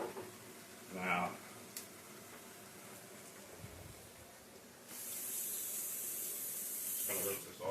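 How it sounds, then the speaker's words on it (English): Water sprays steadily into a kitchen sink while something is rinsed off, a broad hiss lasting a few seconds after brief scattered clinks and movement. "just going to rinse this off"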